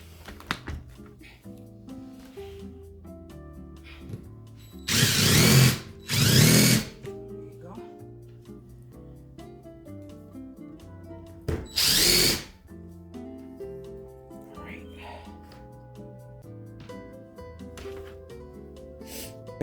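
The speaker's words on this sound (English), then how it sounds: "we're gonna screw those screws into these holes." Three short whirring bursts of a power drill driving screws into wood, loud and close, with soft background music between them.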